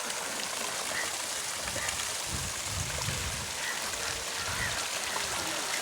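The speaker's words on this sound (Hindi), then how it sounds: "ये लगे हुए हैं जी फुहारे। इनमें सिप्पी टैप बनाया हुआ है ये स्टैचू और इससे पानी निकल रहा है।" Water splashing and pouring from a statue fountain with a tap-shaped spout, beside a pool at Country Garden, Danga Bay, Malaysia; a steady, continuous wash of falling water, fairly close and unbroken throughout.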